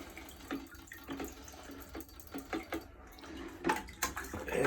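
Water drains from a pump hose into a bucket during descaling of a tankless water heater, a soft, uneven trickle and splash, fairly faint and close, with no talking.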